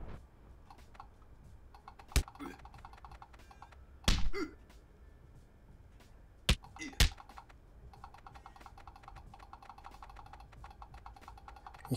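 Computer mouse clicks and keyboard taps during a video game fight, light scattered ticks with a few sharper knocks at close range, while someone talks intermittently over them.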